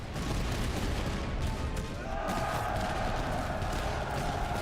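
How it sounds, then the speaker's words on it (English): Musket volleys crackle across a Total War battlefield under French command, a dense, steady roar of massed gunfire with a rising tonal drone midway and no clear pauses. "Get off volley fire."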